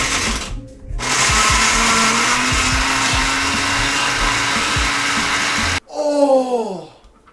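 A blender whirs loudly and steadily for about five seconds, blending a homemade 250,000 Scoville hot pepper pasta sauce, then cuts off abruptly, followed by a short whining sound.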